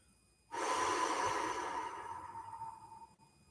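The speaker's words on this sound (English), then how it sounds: "we're breathing out" A single slow exhalation during guided meditation, a soft airy breath out that starts abruptly, then fades gradually over about three seconds, close and alone.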